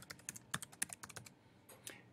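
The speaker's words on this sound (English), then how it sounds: "So I'm going to type in my password." Rapid, light keystrokes on a computer keyboard as a password is entered, a quiet burst of about a dozen distinct close clicks with no talk.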